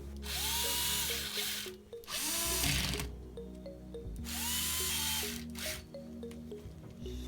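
A power tool whirs in short repeated bursts as bolts are tightened during assembly in the restoration of a rear-wheel-drive car, loud and close with small clicks and squeaks between bursts, and no talking.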